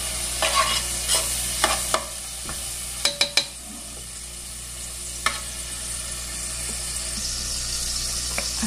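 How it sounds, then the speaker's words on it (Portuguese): A garlic clove sautéing in margarine in a pan for pasta sauce, a soft steady sizzle with a few spoon taps and scrapes against the pan, close, no speech. "Aqui vai um dente de alho para refogar."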